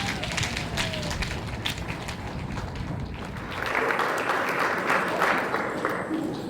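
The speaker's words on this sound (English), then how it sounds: "a big round of applause for Piqua City Schools" An audience applauds Piqua City Schools in a steady, dense wash of clapping that swells slightly partway through, with no talking over it.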